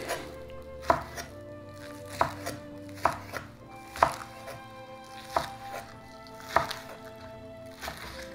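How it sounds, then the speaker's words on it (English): A knife chops a small onion on a cutting board in a home kitchen, giving sharp, close, irregular thuds about once a second against a quiet background. "So now, I'm going to cut my little onion."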